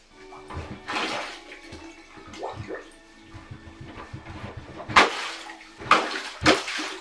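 Water sloshing in a bathtub as a plunger works at the drain, with uneven splashes and gurgles, several louder surges near the end, and soft room noise between them.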